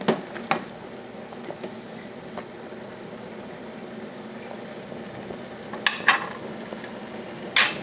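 Home brew stirred in a pot during the boil, with a low steady rolling bubble and occasional clinks and scrapes of the spoon against the pot's side, sharper knocks near the end.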